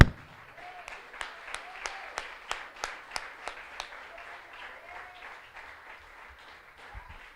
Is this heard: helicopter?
no